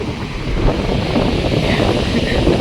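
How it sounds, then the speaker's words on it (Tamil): Strong wind gusting hard across an outdoor spot, a loud steady roar with microphone buffeting that fills the whole stretch without pause. "ரொம்ப கஷ்டமாக காற்று வீசுது"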